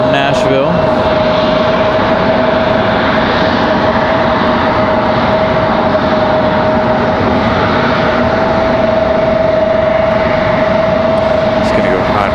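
An airliner on a flight from Nashville arrives at Raleigh-Durham airport at night, a loud, constant engine roar with a sustained whine running throughout, and people talk over it.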